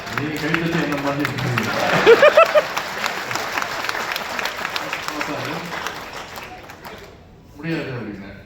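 Audience applause at a Tamil-language speech: steady broadband clapping runs for about eight seconds beneath a voice and fades near the end before a brief final swell.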